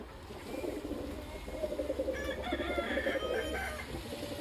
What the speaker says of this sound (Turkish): Horozun sesinden.